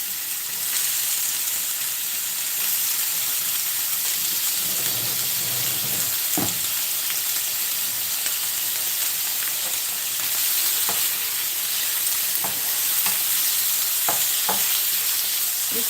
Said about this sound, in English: I'm going to fry the bacon strips.